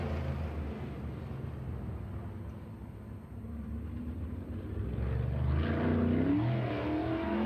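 A 410 sprint car runs at Lucas Oil Speedway during a High Limit Racing event, its engine a steady loud roar that swells louder toward the end of the clip, with no talk over it.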